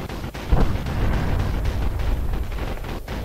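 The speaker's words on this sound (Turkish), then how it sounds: "Charge is set. Get some distance and blow to kingdom come." An explosive charge detonates in the shooter game Sniper Ghost Warrior 2, a sharp crack followed by a long, loud, rumbling roar that fills the scene and slowly settles.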